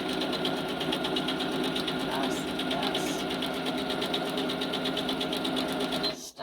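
A sewing machine stitches back and forth over elastic held in a fast frame for embroidery, with a steady, rapid mechanical whir running continuously and close, then stopping abruptly at the end.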